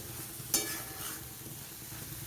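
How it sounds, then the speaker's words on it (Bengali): Sliced onions sizzle in a hot pan as they are stirred for a banana-flower curry, a soft steady frying hiss with a couple of scraping spatula strokes and no talking. "এবারে আমি কিছুক্ষণ পেঁয়াজ দিয়ে নেড়ে চেড়ে নিই"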